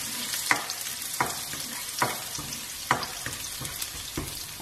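Garlic fries in a pan for aloo palak while a spoon stirs it through, giving a steady close sizzle broken by regular scraping knocks against the pan, about one every second.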